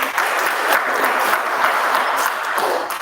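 Audience at a joint MCTC and GTC meeting breaks into a big round of applause, a dense, even roar of many hands clapping that holds steady for the whole stretch.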